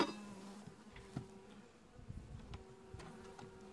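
Honey bees hum and buzz softly around an open beehive as frames are worked in the brood box, a low steady drone with occasional louder passes of individual bees nearby, and no voices.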